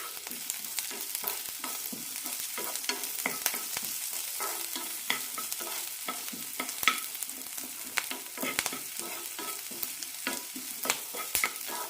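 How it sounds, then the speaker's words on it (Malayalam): Onion and tamarind sauté in a pan for chutney, giving a soft, continuous sizzle under frequent sharp scraping clicks from a stirring spoon. The sound stays close and moderate, and no one speaks. "ഇനി ഇതിലേക്ക് ഒരു ചെറിയ പീസ് പുളി കൂടി ഇടാം നന്നായി വഴറ്റാം"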